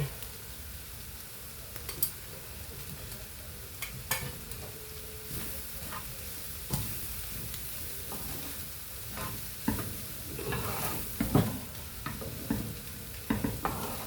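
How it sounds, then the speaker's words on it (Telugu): Kerala-style cabbage with coconut and egg stir-frying dry in a pan, a constant close sizzle with intermittent spatula scrapes and taps throughout, no voices. "ఇందులో కొబ్బరి వేసుకున్నామండి."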